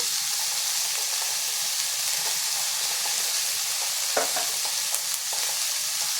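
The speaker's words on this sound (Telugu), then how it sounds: "అది కూడా కొంచెం నూనె వేసుకొని వేయించుకున్నాము" Vegetables with ginger garlic paste frying in oil for purple cabbage veg fried rice, a loud steady sizzle and hiss throughout, with a few faint stirring clicks near the end.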